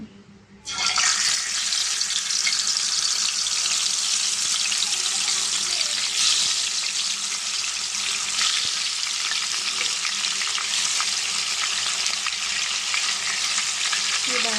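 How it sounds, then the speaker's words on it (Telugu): Pieces of fish dropped into hot oil in a kadai give a sudden loud hiss, then a strong, even, close sizzle that holds steady for the whole stretch with no talk. "మనం ఇప్పుడు ఫిష్ని ఫ్రై చేసుకుందామండి"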